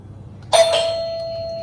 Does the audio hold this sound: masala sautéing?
no